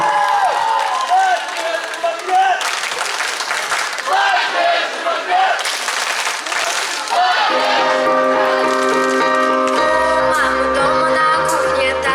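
Bursts of audience applause and cheering at a children's troubadour song festival, alternating with a voice, before music starts to play.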